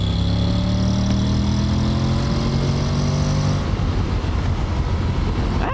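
A Honda X-ADV 750 scooter accelerates to overtake, its engine holding a loud, steady drone with rising tones under continuous road and wind roar, and no talking.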